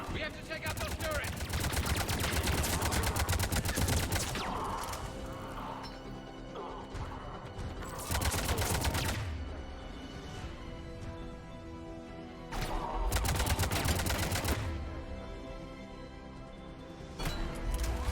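Sustained bursts of automatic turret gunfire in the Mass Effect video game, loud and dense, coming in long waves with brief lulls between, mixed with game sound effects.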